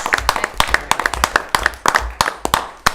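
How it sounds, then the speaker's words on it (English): Sparse, distinct hand claps from a small group at a school district committee meeting, individual sharp claps scattered irregularly over a few seconds in a quiet room. "how about a round of applause for our Jordan for his first year out"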